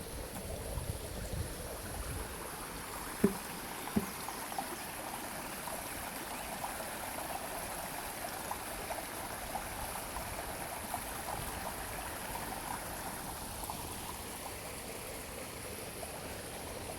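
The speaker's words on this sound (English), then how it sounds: "Yeah, we've got flowing water here." A stream flows beneath a trail bridge near a grist mill, a faint, steady wash of running water with a couple of small knocks, otherwise unbroken.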